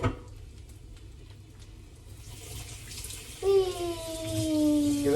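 Tap water runs into a sink while a spoon is rinsed clean during fried rice cooking, a steady broadband rush that swells louder partway through, with a brief ringing clink near the end.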